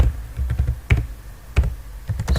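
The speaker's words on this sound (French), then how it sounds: "Je tape ici" Quick, irregular clicks of typing on a computer keyboard while searching for a text editor, a few sharper key presses standing out, close and clear with no talk.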